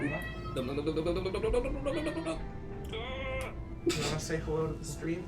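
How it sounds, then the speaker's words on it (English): A cat meows several times close by, drawn-out and plaintive, while a person speaks softly in between. "can probably hear the cat meowing."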